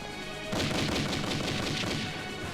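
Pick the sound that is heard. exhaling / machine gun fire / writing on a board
machine gun fire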